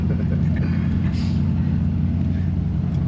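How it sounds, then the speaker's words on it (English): A 1968 Ford Mustang idles and rolls slowly up onto a trailer, a steady deep engine drone that stays loud and even throughout. "I'll just drive it right up on your trailer for you"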